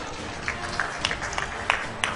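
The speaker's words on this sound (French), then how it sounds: "Voilà, sous vos applaudissements." A few light, uneven claps from the audience at a French spoken-word contest final, thin and intermittent rather than a full ovation, heard near over a low room hum.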